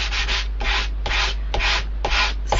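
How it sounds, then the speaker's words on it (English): A cardstock sanding block rubs gently over embossed cardstock in quick, regular back-and-forth strokes, about six close, scratchy passes in a steady rhythm with no talking. "just gently sand back"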